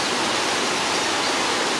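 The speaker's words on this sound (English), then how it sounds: "looking at the water running through the Drew Gully" Water runs through the Drew Gully at Maho Drive, a steady, close broadband rush like a small waterfall, with no talk over it.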